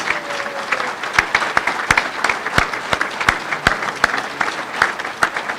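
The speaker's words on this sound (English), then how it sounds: "Let's have another round of applause for our inductees." Applause for inductees at the 2015 USBC bowling Hall of Fame induction ceremony, a full room clapping steadily with loud individual claps cracking out close by.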